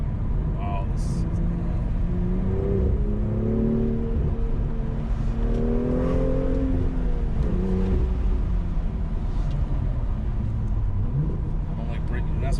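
A sports car carving a canyon turn in Los Angeles, its engine note climbing twice as it accelerates, heard from inside the cabin beneath people talking.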